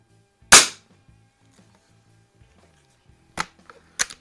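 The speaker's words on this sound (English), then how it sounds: "This gun is a little bit loud for the garage" Weihrauch HW50S spring air rifle fired offhand inside a garage: one sharp loud crack, a pause, then two more sharp shots close together near the end, each followed by faint clatter.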